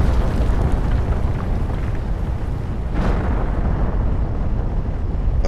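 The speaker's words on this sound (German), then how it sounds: "Dazu explodiert im Hintergrund alles. Explosionen, bam, bam, bam, alles drum und dran." Explosions in the video game The Planet Crafter: a steady, dense roar of blasts with one sharper burst standing out midway, loud and continuous without speech.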